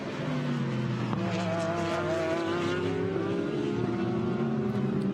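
GT race cars in the Continental GT Challenge Kyalami 9 Hours, with a Mercedes leading, howl past at speed. A loud, continuous engine roar holds steady, and its pitch sweeps gradually upward as the cars pass.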